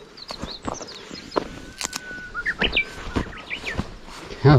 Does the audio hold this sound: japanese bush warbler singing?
yes